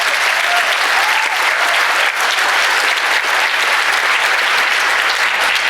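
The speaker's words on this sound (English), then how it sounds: "Y'all give her a round of applause" Steady, loud applause from a large audience at a school district address, continuous clapping filling the whole stretch without a break.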